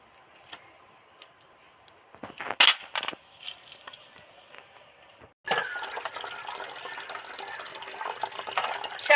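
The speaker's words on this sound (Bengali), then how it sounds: "এবার এগুলো জলে দিয়েছি এগুলো ধুয়ে নিয়ে নিয়েছি" Cut crab pieces and claws being washed in water in a village kitchen: scattered splashes and handling clatter, then a sustained rush of running, sloshing water, up close with no speech.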